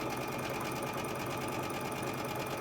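Sewing machine stitching a fabric bowl cozy, a brief, steady, close whir with no pauses or talk.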